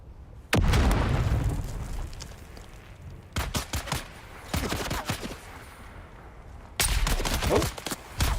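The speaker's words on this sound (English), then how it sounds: "Did he just throw a grenade at me?" Heavy blasts and rattling gunfire boom in the video game Dune: Awakening, several loud sharp bursts with decaying rumble between them, no talking over them.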